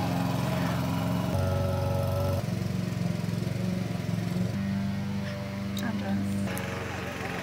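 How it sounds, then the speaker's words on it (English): A lawn mower engine runs steadily nearby, a continuous droning hum whose pitch shifts slightly now and then as the load changes, moderately loud throughout. "Someone doesn't know how to mow a lawn. They keep clogging the mower."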